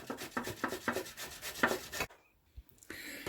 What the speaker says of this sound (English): now I'm going to shred some boiled potatoes, about 400 gram worth